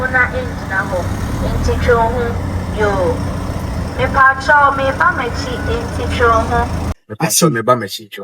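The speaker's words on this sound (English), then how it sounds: "Every Kantanka vehicle has that special reverse voice." A Kantanka trotro minibus's special reverse alert: a recorded voice announcement repeats about every second over a steady low idling engine rumble, then cuts briefly near the end.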